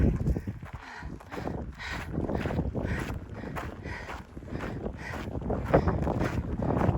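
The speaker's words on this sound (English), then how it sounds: "It's windy in here." Gusty wind on the Pacific Crest Trail near a small lake buffets the microphone in uneven bursts, roaring and easing repeatedly over several seconds, loud and close, with no speech.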